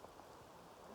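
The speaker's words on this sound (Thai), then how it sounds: "ตอนนี้ฝนก็ยังตกเนาะ" Steady rain pours down on a farm field in the morning, a continuous dense hiss of drops with no gaps, filling the scene at an even level.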